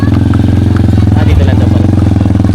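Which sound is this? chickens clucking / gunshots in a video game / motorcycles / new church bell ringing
motorcycles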